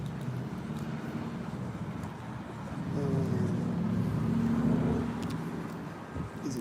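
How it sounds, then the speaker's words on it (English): Cars drive past at the curb, their engines rising to a low rumble and then fading, heard as steady traffic passing close by with a few faint background sounds. "I hear the cars, the engine sound behind me at the curb synced."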